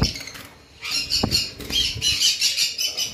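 Caged lovebirds, a green male and a blue female, flap restlessly and let out bursts of squawks and chirps. The calls are close and come in quick, uneven flurries.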